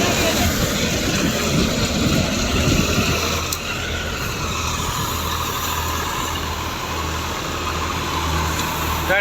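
A 2005 FiAT 480 tractor drives a mustard thresher in a loud, steady mechanical drone with a low engine hum, continuous and close throughout.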